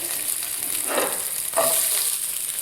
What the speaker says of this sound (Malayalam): ഇനി നമുക്ക് ഈ അരിഞ്ഞു വെച്ചിരിക്കുന്ന സാധനം ഈ എണ്ണയ്ക്കകത്ത് തന്നെ വഴറ്റിയെടുക്കാമേ.